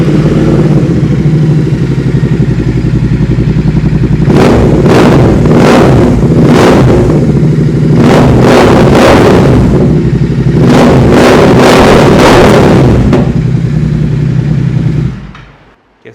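A parallel-twin motorcycle with its stock exhaust idles with a steady burble, then takes a series of sharp throttle blips, first in short pairs and then in quick bursts, before the engine is switched off and falls silent.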